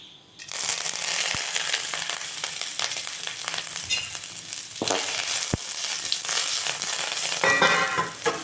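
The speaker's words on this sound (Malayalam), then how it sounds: "വെളിച്ചെണ്ണ ഒഴിച്ചിട്ടുണ്ട്, ഇനി കറിവേപ്പില ഇടാം." Curry leaves dropped into hot coconut oil hiss and crackle in a loud, steady close-up sizzle for several seconds, with a few sharp pops breaking through.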